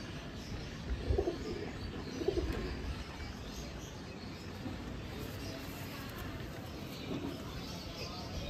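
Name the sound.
pigeons cooing in a loft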